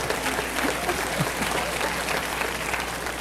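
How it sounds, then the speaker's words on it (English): An audience at a motivational talk breaks into steady applause, a dense continuous wash of clapping at moderate distance that holds evenly throughout. "You applaud for them, huh?"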